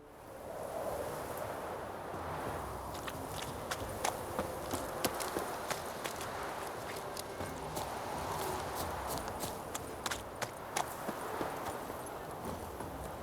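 Horse hooves galloping in the video game The Witcher 3: Wild Hunt, a steady run of soft clip-clop beats over wind and ambient outdoor background, fairly quiet.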